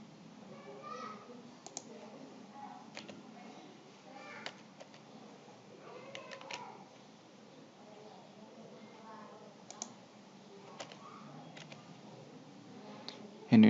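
Sparse, sharp computer mouse clicks on a Windows computer, spaced irregularly over a steady low background hum, with a faint voice murmuring underneath.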